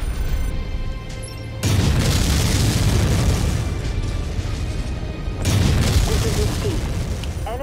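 An enemy vehicle blowing up in Mechwarrior 5: Mercenaries, two heavy booming blasts a few seconds apart, each swelling into a rumbling roar over constant battle noise, with a voice heard briefly in the mix.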